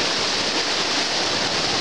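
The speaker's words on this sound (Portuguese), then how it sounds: "E essa água vem descendo com muita força." Floodwater rushing down a flooded city avenue after heavy rain, a dense, steady roar of churning water, loud and continuous with no voices.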